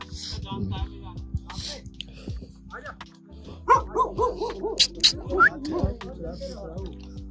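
A dog, previously aggressive toward a visitor, barks repeatedly in quick bursts close by, with people talking over and between the barks.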